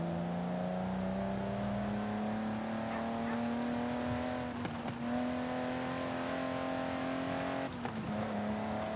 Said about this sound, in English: In the cockpit view, actually, you can hear the ITBs